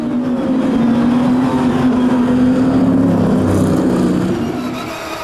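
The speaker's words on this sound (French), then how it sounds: "c'est parti pour la dernière heure de course depuis le circuit Paul Ricard" Race cars at the Paul Ricard circuit during the final hour of a race, a loud engine note rising and holding as a car passes close by, then easing slightly, with no talk.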